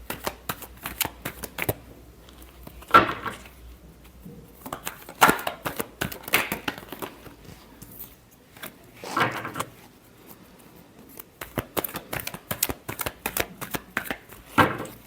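Tarot cards are shuffled by hand in repeated bursts, quick crisp riffling and flapping of the deck separated by short pauses, close and fairly quiet, with no talking.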